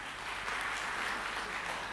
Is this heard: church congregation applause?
yes